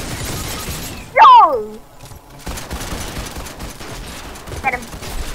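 Fortnite gameplay with a sudden loud burst of gunfire and impact near the start, followed by a whooshing sweep and quieter game ambience, with people talking excitedly throughout.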